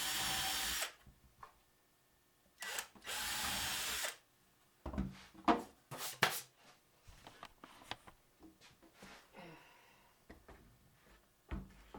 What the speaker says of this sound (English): I'm thinking actually I'm going to put a couple of screws here from behind